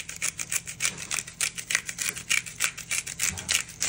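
A hand-twisted seasoning grinder cracks steakhouse seasoning in quick, even bursts, giving a crisp, close ratcheting crunch that repeats about four times a second with no talk.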